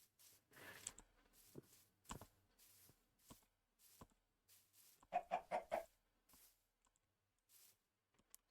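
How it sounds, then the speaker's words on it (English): Minecraft chickens cluck in short separate bursts across several seconds, including a quick run of four clucks, fairly clear against near silence. "Chicken."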